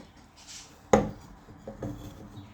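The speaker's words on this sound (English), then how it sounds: "let's take a nice sharp chisel like this here. This one is a Henry Taylor tool." A single sharp crack as a Henry Taylor chisel bites into wood, followed by softer scraping and a couple of lighter taps, close and fairly quiet.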